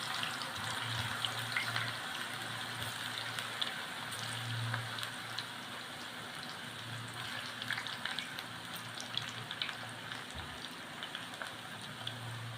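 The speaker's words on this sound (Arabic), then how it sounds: "لا هي بتستوي في الزيت، بحمرها وبتستوي معايا" Potatoes, raw and not parboiled, frying in hot oil for homemade fries, a steady close crackle and hiss like light rain, continuous and moderately quiet with no talking.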